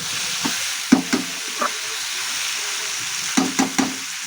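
Bengali drumstick curry with mustard paste frying in a pan, a continuous low sizzle broken by several sharp spatula scrapes and knocks in small clusters, no talk.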